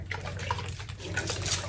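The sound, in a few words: spraying hair with Ecoslay Sangria hair refresher spray bottle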